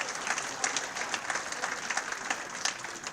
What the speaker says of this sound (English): Another round of applause for the 1977-78 women's swimming and diving team.